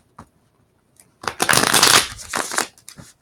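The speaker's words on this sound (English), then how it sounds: "Just going to do a few final shuffles." A deck of tarot cards is riffled and shuffled close up in a couple of crisp bursts, with quiet taps between.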